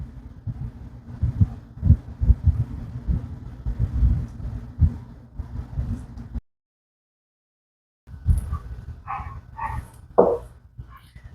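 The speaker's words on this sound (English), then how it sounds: "Sorry if you can hear the dog barking downstairs." A dog barks downstairs in a string of muffled woofs, then a short silence, then a few more sharper barks and rustling, no one speaking.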